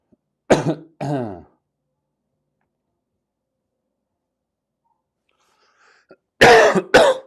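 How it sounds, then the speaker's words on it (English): A man coughs and clears his throat, two sharp bursts close up, then a long silence and a louder double cough near the end. "Bro, I still got that cough."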